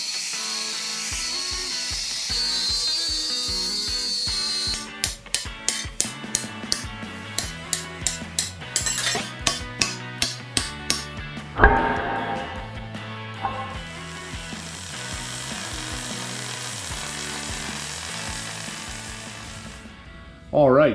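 A power tool cuts through welds on steel axle brackets from a 14-bolt axle on a Jeep build, with a rapid run of sharp rhythmic bursts. Music and a steady high grinding whine follow, then a loud jolt at the end.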